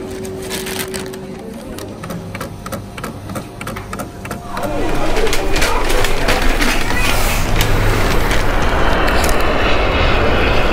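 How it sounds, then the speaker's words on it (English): Fixed-wing airplanes landing at Tromsø Airport, heard from a nearby beach in the Arctic: a steady, loud jet engine roar that swells partway through and holds, with background noise throughout. "On a beach, planes landing behind me into Tromsø Airport."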